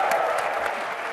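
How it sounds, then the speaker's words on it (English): A crowd at a SharePoint 2013 tech conference demo claps briefly, a dense burst of applause fading slightly over about a second. "I can get them to clap"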